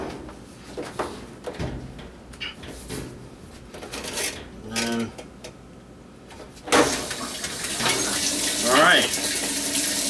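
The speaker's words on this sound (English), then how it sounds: "Cold water is flowing in, which was not flowing in before." Cold water flows into a washing machine through a newly replaced water valve, a steady hiss of running water that grows louder and brighter partway through, heard close up with other handling noises and no speech.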